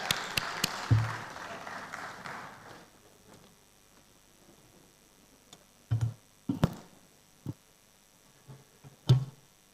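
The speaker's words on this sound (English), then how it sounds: "Let's keep the applause going till he makes it on stage" Audience applause at a tech conference in Lagos, a burst of clapping and cheering in the opening seconds that fades quickly, followed by a few scattered sharp claps and knocks.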